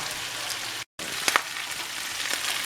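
Breakfast sausages fry in a pan on medium-high heat with a continuous crackling sizzle, close and even, broken by a brief silent gap and a couple of sharper pops, with no voices.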